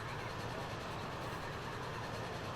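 The Flying Scotsman steam train runs in Transport Fever 2, a steady, even rail rumble and rolling hum held at a constant level throughout, with no voices.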